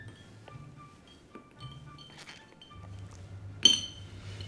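Ice cubes are dropped into a glass in a kitchen, giving a few quiet clinks and one sharper glassy knock near the end over a low background hum.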